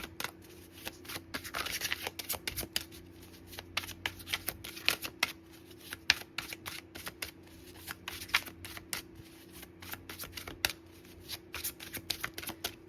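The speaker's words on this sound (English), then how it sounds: "the second card I'm trying to shuffle for is taking a while." Tarot cards being shuffled by hand, with quick repeated riffling snaps and clicks in uneven bursts, close and fairly quiet over a steady low hum.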